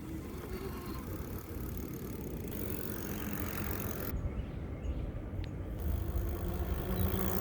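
A Heybike Mars folding fat tire electric bike is ridden, giving a steady, low rolling rumble of tires and motor with faint rattling throughout, fairly quiet and continuous.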